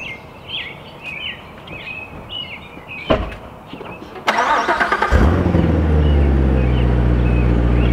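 Birds chirp faintly, then a car door thuds shut, and a sports car engine cranks and roars to life, settling into a loud, steady idle.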